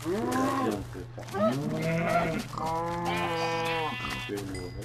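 Sheep bleating in Minecraft, several long, wavering bleats one after another, loud and close, filling the clip with little else around them.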